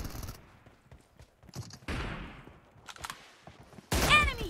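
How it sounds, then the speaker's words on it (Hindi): Gunfire crackles in a team-based video game match, arriving as several separate bursts of rapid shots with quiet gaps between them, the last burst loudest and closest. "क्या कड़ाकेदार शॉट लगा है, मुंडी ही तोड़ दी"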